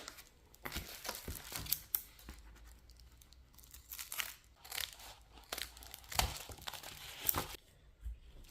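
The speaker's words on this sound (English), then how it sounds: "Now we're going to cut off the bottom piece." Scissors snip through a food dehydrator tray liner to remove the bottom piece, giving a series of close, crisp cuts and crinkles at an uneven rhythm with short pauses between.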